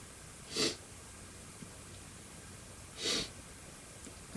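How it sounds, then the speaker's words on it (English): Two short, sharp sniffs about two and a half seconds apart, close and breathy, against a quiet background. "Getting the sniffles now."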